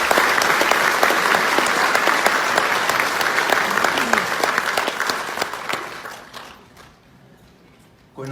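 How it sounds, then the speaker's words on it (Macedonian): Loud, sustained audience applause for a director in a Macedonian hall, dense steady clapping that continues for several seconds before fading away, with a brief swell at the very end. "сакам еден аплауз за режисерот Стане Бојаки"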